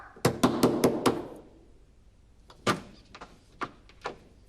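Rapid rattling knocks on a locked wooden door, a burst of five loud blows followed by a pause and a few scattered, sharper single knocks, close and dry with no talk over them.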